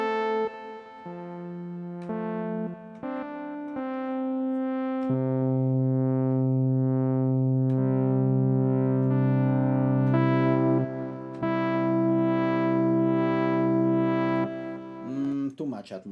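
A sustained atmospheric synth drone holds layered tones that shift between chords, loud and steady with an effects-processed sheen, fading out at the end.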